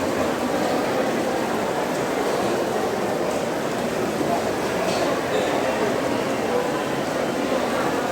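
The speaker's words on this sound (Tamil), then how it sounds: "நன்றாக மழை பெய்து கொண்டிருக்கிறது" Heavy rain pours steadily over a temple queue at the Chamundeshwari shrine in Mysore, a dense, even hiss with murmuring voices of the crowd underneath throughout.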